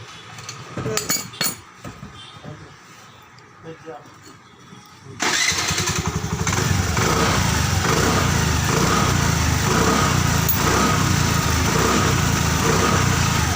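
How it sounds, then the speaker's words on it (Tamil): A Honda Activa 5G scooter, checked for a loose wheel nut, is started after a few seconds of quiet clinking, then its engine catches and idles steadily and fairly loud until the end. "இப்போ வண்டி ஸ்டார்ட் பண்ணுங்கள்."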